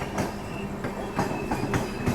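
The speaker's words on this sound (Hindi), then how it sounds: "और कानपुर आउटर पे अपनी क्रॉसिंग हो रही है द प्रयागराज एक्सप्रेस से।" A Rajdhani Express passing the Prayagraj Express on the outskirts of Kanpur, with a steady rumble and evenly spaced clickety-clack wheel beats on the rails, loud and close throughout.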